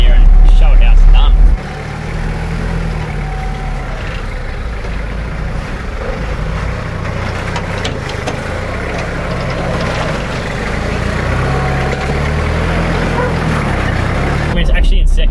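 An old Toyota Hilux LN crawls up an off-road hill in second gear, its engine a steady low drone throughout, with wind or vehicle rumble and a voice talking over it.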